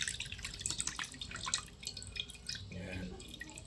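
Vinegar used as a wash drips and trickles off into a bowl, a soft, close patter of liquid that keeps going with no one talking.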